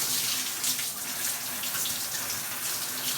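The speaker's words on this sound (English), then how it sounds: "Alright, so you rinse it all off." Steady running water from a tap while hair is rinsed, a continuous broadband hiss close by, with no speech.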